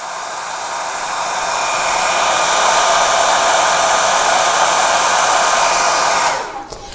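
A hair dryer blows on a piece of artwork, a loud steady close whoosh that swells in over the first seconds and cuts off abruptly near the end.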